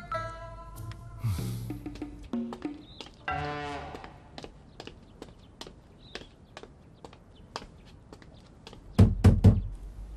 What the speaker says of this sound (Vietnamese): Ngày nào ông cũng tới gõ cửa hết